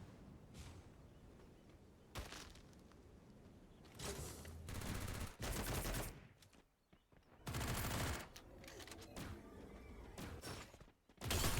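Bursts of automatic gunfire from the Free Fire battle-royale game, several loud sustained volleys separated by brief pauses, with no talk over them.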